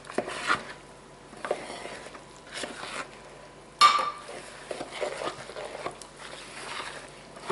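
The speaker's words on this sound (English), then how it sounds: "I'm just going to mix it up here." Sourdough bread dough being mixed with starter in a bowl: intermittent soft scraping and knocking of a utensil against the bowl, with brief clinks and quiet pauses between strokes.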